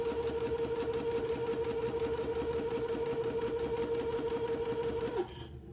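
A sewing machine stitching along a waistband runs in a steady, rapid, even rhythm, close and fairly quiet, then stops abruptly just before the end.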